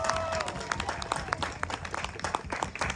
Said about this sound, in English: I want you to give yourselves a big round of applause for showing up.